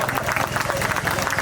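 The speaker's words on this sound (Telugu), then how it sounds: "మళ్ళీ భావన గారికి గట్టిగా చప్పట్లు" Dense, steady clapping from a gathered crowd applauding a singer at a Karthika month outdoor communal feast, filling the whole moment without a break.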